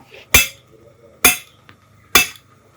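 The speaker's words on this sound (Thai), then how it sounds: "เหล็กนำตอกลงไปเลยครับ ตอกลงไป" A steel guide rod is driven into the ground while a stand for a stingless bee hive box is set up. Three sharp metallic strikes ring out close by at an even, unhurried pace, with no talking.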